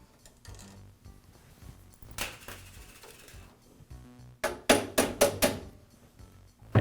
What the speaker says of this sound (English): Now I'll go ahead and remove the bolt from the bracket.